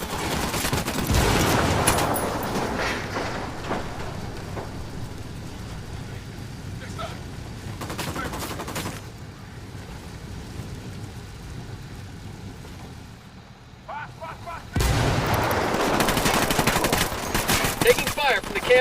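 Gunfire in Ghost Recon Wildlands at an enemy camp entrance: loud fusillades of rifle and machine-gun bursts, a quieter lull in the middle, then renewed heavy firing, with voices talking over it.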